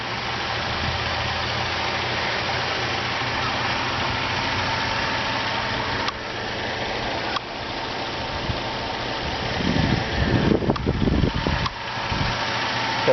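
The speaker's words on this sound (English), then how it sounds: "Got a very quiet engine." A 2008 Cadillac CTS with the 3.6 liter V6 idles under an open hood: a smooth, quiet, steady hum, recorded close, with a few louder rustling knocks near the end.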